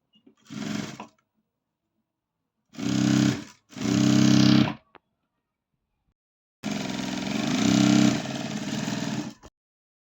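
Sewing machine stitching a blouse, heard as four separate runs of motor whir and needle chatter: a short one, two medium bursts close together, then a longer run lasting about three seconds, with silence between runs.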